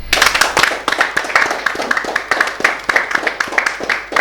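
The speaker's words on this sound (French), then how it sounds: "on peut applaudir, non?" Audience clapping at a business talk show, a dense, steady patter of many hands that fills the whole stretch, close and fairly loud, with a faint voice underneath.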